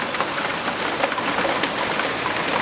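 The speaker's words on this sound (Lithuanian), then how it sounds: "Man atrodo lyja" Steady rain falling, a dense, even hiss of drops that fills the whole stretch at a constant, fairly loud level.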